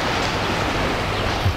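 Early-morning sea waves at Anapa beach, a loud, steady wash of surf hiss close by, brief and without voices.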